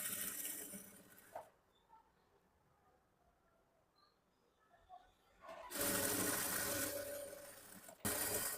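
A sewing machine stitches along a folded blouse lining, running loud and close at the start, falling quiet with faint handling sounds, then whirring again in a longer burst followed by a short final run.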